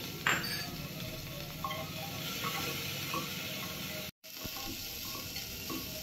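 Onions, curry leaves and green chilies fry in oil in a pressure cooker with a steady close sizzle, a few light clinks of stirring and a brief cut near the end.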